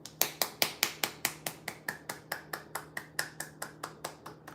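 Hands clap about twenty times in a steady, slightly quickening rhythm, each a sharp close slap with all five fingers of each hand aligned, crisp and fairly loud with no talking.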